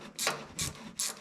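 Ratchet tightening a fuel return line fitting on a Cummins-swapped truck: three quick, close clicking bursts in steady rhythm, no talking.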